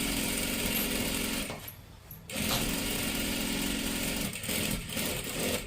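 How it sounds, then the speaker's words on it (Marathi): A sewing machine motor whirs steadily as it stitches along the edge of salwar fabric, pausing briefly partway through before running on at the same even pace. "इथे सुद्धा एकदम कडेकडेला शिलाई मारत मारत घ्यायची आहे"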